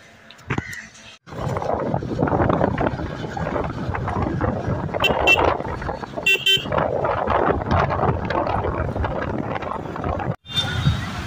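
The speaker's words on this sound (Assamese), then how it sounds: "চাওক গাইছ, নতুন বছৰৰ ট্ৰাফিক।" New Year traffic near the Chanaka picnic spot: a loud, continuous rush of passing vehicles with occasional car horn toots, wind buffeting the microphone, and a brief drop in noise near the end.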